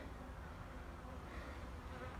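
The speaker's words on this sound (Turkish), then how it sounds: "bir arı şu an beni gümletecek" A steady, faint buzzing hum of honeybees at a hive in late November continues without pause, like bees droning close by.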